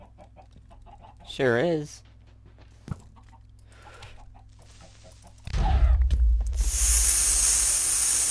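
Minecraft chickens cluck in a short warbling burst near the start, followed by a creeper's hiss and a loud explosion that wipes out the chicken farm, with a player speaking briefly.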